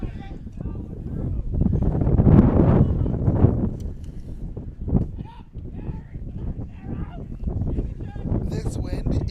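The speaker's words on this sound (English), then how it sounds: "This wind is crazy. The wind is whipping" Strong, gusting wind buffets the microphone at a high school baseball game on a cold day, a steady low roar swelling and easing throughout while a commentator talks over it.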